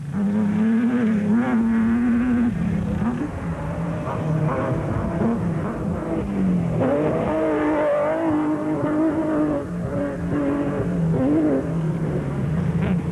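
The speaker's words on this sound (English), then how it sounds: "Still, the Nissan was sounding phenomenal." A Nissan Hardbody race truck in an off-road endurance race roars loudly and steadily throughout, its engine note rising and falling close by with no talk.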